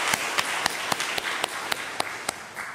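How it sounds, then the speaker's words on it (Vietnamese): Delegates at a Da Nang city council session clap in a slow, even rhythm, about nine or ten sharp claps spaced evenly over the crowd's background. "xin đề nghị các vị đại biểu chúng ta vỗ tay chúc mừng đồng chí Chủ tịch Lê Trung Chinh"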